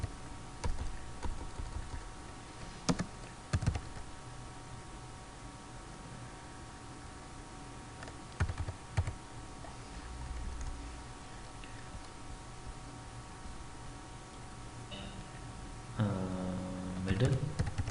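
A computer keyboard is used to type HTML code, with bursts of clicky keystrokes and isolated taps spread over a steady background hum, while someone talks throughout.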